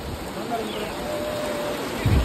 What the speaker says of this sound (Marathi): मधीतच पाऊस आला, पावसाने पुरा वाटोलाच लावला